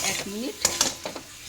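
A spoon scrapes and clinks through a papaya and potato curry in a pan, a few short knocks and scrapes heard close over a light sizzle.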